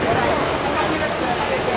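Rain pours during a thunderstorm on a New York street, making a dense, even hiss that fills the whole moment, with faint voices beneath it.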